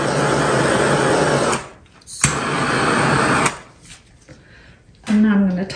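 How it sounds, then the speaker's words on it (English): Heat gun blowing hot air over resin in an underwater resin diorama, a steady loud rushing roar in two long bursts that cut off abruptly, with quieter handling noise between and a short tone near the end. "I'm going to take the heat gun to smooth that resin out."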